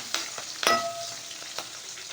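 Curry leaves frying with onions in a pan for a Tamil-style fish curry, a soft steady sizzle with a sharp crackling burst partway through as the leaves hit the hot oil, alone with no voices.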